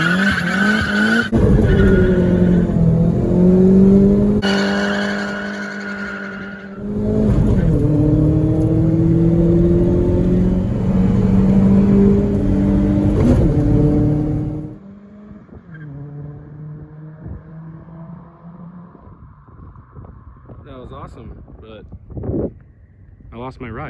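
Nissan Sentra B15 sleeper with an SR20VET engine swap from an X-Trail GT, its engine droning loud and steady with rising revs, then dropping to a quieter idle-like rumble, with people talking over it.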